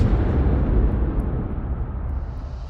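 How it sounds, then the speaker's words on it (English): A mortar round explodes in a combat setting, leaving a loud, deep, rumbling boom that decays slowly over a few seconds, heard without any voices. "And you hear the explosion."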